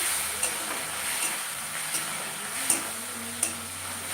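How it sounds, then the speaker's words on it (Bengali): Spice masala fries on a low flame for bailla fish curry, a low steady sizzle with a few sharp stirring clicks spaced several seconds apart, quiet and close. "আমি লো ফ্লেমে মশলাটাকে একদম কষাচ্ছি আর কি ভাজা ভাজা করছি"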